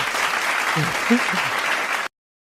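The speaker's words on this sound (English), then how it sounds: "Let me get him some applause." Crowd applause on a sports talk show sounds as a steady, dense wash of clapping with a few brief voice fragments mixed in, cutting off abruptly after about two seconds.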